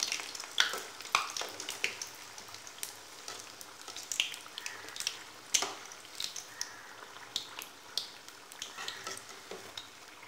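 Mutton rolls deep frying in hot oil on a stove, steady quiet sizzle with scattered crackles and pops, plus occasional light clinks of a utensil stirring in the pan.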